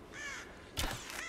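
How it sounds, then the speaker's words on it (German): A raven in the video game Rise of the Tomb Raider caws twice, with a drawn-out call followed by a louder, harsher one, clear and fairly close over a soft background. "Da ist der Rabe davor geflogen"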